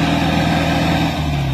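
A tractor engine idles in the desert, a steady low rumble with a firm droning hum that holds close and loud throughout, no voices over it.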